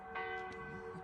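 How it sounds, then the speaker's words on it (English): A church bell rings out across French countryside vineyards, its sustained metallic tone humming steadily with a soft strike, moderately distant and quiet. "This church bell is ringing."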